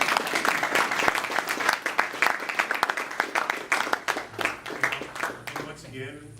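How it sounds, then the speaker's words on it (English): Applause from an audience for actors after an interactive theater performance, uneven clapping that thins into scattered individual claps, with a voice starting to speak as it dies away. "the way we're going to release them from their roles with applause."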